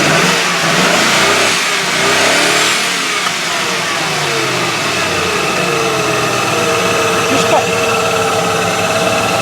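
A Range Rover engine revs up and settles with a slight misfire, loud and close, the pitch rising and falling unevenly over about ten seconds while someone talks over it.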